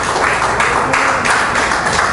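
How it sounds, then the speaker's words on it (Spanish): Church congregation applauding loudly and steadily, a dense continuous wash of clapping from many hands with no pauses, recorded close and filling the room. "Denle un aplauso al Señor fuerte."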